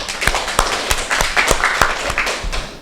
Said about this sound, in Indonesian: Boleh kita tepuk tangan dulu